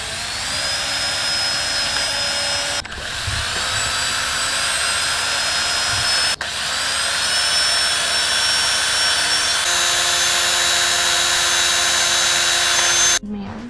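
A loud, steady whine of a power drill drilling holes for a procharged 3.7 V6 Mustang, running in long continuous stretches, pitch shifting slightly as it bites in, with short breaks between runs.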